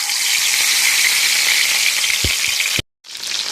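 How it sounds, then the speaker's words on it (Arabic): Fish frying in very hot oil in a pan, giving a loud, continuous, dense sizzle with a few soft knocks before it cuts out briefly and then resumes. "وهروح على الطاسه بتاعت الزيت اهو. بصوا الزيت سخن على الاخر اهو"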